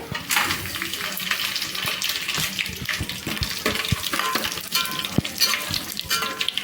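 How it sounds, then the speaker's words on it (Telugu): Whole biryani spices sputter in hot oil and ghee, giving a loud, continuous close-up sizzle with bubbling crackle and occasional stirring clinks, with no talk. "ఇవి ఎమ్మటే మనకి ఫ్రై అయిపోతాయండి."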